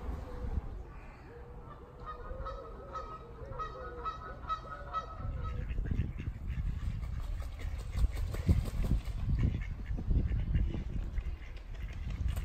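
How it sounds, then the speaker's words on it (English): Geese honk and ducks quack repeatedly, a busy, overlapping chorus of calls with steady outdoor background noise. "listen to the ducks and the geese, who were very talkative today"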